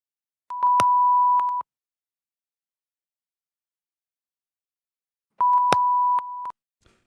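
Two steady electronic beeps, each about a second long with a couple of clicks, separated by roughly four seconds of silence.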